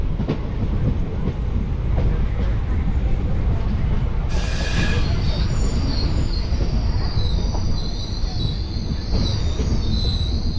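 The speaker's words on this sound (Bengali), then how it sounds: "আমাদের ট্রেন এসে ঢুকলো রানীনগর জলপাইগুড়ি" Local train 55752 from Haldibari pulls into Raninagar Jalpaiguri station, its steady rumble joined midway by a sharp burst of high wheel squeal that then rings on as a sustained metallic whine.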